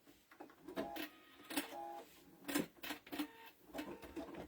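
A sewing machine set to a 3.5 stitch length sews around fabric in short, quiet bursts of rapid mechanical clatter, stopping and restarting several times with brief pauses between runs.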